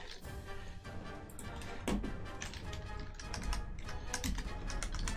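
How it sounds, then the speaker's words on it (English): Steady, dense typing on a computer keyboard, fast overlapping key clicks running throughout at close range over a constant background hum, with no talking. "Let's try to type something."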